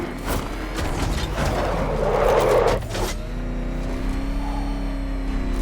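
Batmobile from the video game Batman: Arkham Knight driving, a steady engine drone that swells louder for a moment mid-clip before settling into a smoother tonal hum, with no talk.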